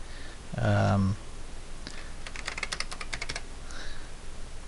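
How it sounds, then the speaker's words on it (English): Keys clatter on a computer keyboard as a username is entered into a database application, a quick burst of close, crisp clicks following a brief spoken phrase, with a couple of lighter taps afterward. "We can type in a username"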